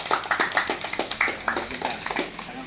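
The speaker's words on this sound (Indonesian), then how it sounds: "Tepuk tangan dulu" Audience applause after a village head's presentation at an indoor gathering, a patter of scattered claps of moderate loudness rising and thinning over a few seconds.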